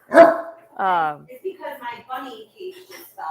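A dog barks sharply once near the start, then a voice talks over quieter whimpering and yipping sounds close by.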